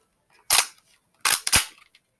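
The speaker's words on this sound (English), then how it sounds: "BB gun." A toy police BB gun fires three times, a single sharp crack followed after a pause by two quick shots close together, loud and close against silence.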